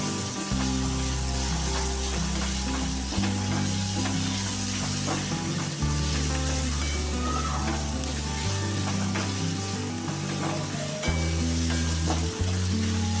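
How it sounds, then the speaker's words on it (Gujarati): Chopped onions sizzle and fry steadily in a pan for dal fry, with stirring scrapes throughout, loud and close with no talking. "2 મિનિટ સુધી હલાવતા રહીશું એટલે કાંદા આપણા બ્રાઉન થઈ જાય."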